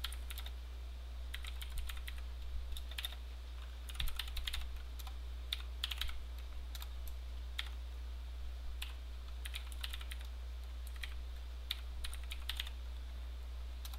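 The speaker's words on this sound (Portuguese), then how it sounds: "o teclado que eu estou usando ele é um teclado, não é padrão brasileiro." Someone types on a computer keyboard with a non-Brazilian layout while writing code for a BMI calculator, giving quiet, irregular bursts of clicking keystrokes that pause and resume for about fourteen seconds over a low hum, with no voices.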